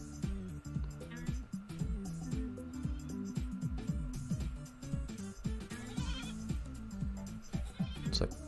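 Sheep in the video game Hanna in a Choppa 2 bleat repeatedly in overlapping, wavering cries, several animals calling at once over a continuous game background.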